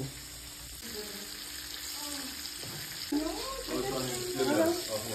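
Fish fries in oil in a pan, a steady close sizzle that grows livelier toward the end, with voices talking over it.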